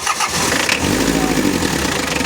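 A car's starter motor cranks the engine in one long continuous whir, loud and close, without the engine catching.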